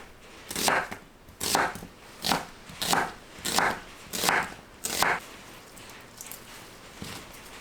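A knife slices an onion into 0.5 cm slices on a cutting board, about seven crisp cuts at a steady rhythm, close and clear, then quieter fainter cuts at the end.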